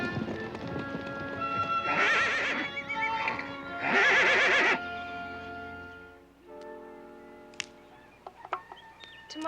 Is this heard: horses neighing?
yes